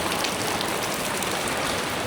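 Steady, dense rain falls on a street in Da Nang, Vietnam, a continuous close hiss of drops on the pavement with no voices.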